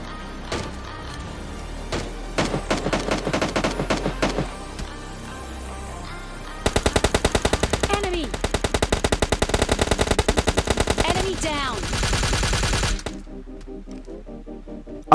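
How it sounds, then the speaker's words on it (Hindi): Automatic gunfire from the mobile battle royale game PUBG Lite, with loud rapid bursts and sustained volleys of shots, some sharp single rounds early on, then long fast strings of fire before a quieter tail. "अब मुझे पीछे से फायर आता है"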